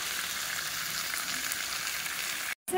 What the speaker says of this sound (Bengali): এখন এই আলু আর কলাটা ভাজা করছি।